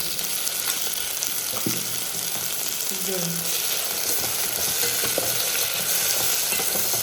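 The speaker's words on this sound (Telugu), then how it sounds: "అల్లం కూడా ఎర్ర వేగాలి" Oil sizzles steadily in a pan as ginger fries, a constant hiss with an occasional scrape of a spoon stirring.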